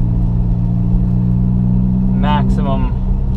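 Cabin of a VW MK7 fitted with a center exit exhaust under acceleration: a loud, steady low engine and exhaust drone fills the whole clip, with a brief voice speaking near the end.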